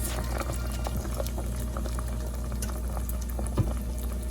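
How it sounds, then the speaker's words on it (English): Heavy cream is poured as a small splash into peaches for a peach cobbler, giving a steady, close, bubbling liquid texture that runs evenly throughout without any voices. "So now I'm going to add in my heavy cream."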